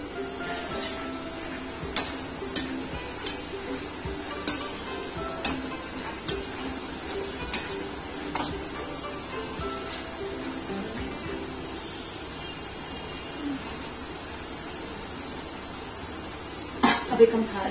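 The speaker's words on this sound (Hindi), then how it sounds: "अब इसमें हम थोड़े थोड़े करके नूडल्स डाल के फ्राई कर लेंगे।" Noodles deep frying in hot oil give a steady low sizzle, with periodic ticks and clinks from the pan and utensils.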